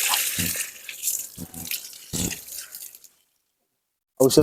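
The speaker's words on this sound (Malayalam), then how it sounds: "ഇതിങ്ങനെ നന്നായിട്ട് കഴുകിയെടുക്കാം മണ്ണും ചെളിയെല്ലാം പോണ്ടേ" Water sloshes and splashes in bursts as mangoes are rinsed by hand of soil and mud, with speech over the washing before it stops and resumes briefly.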